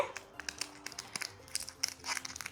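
Plastic wrapping on a toy box is opened and crinkled up close: soft, quiet crackles and light tearing rustles in quick uneven bursts.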